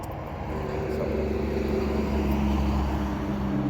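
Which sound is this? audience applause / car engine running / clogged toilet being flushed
car engine running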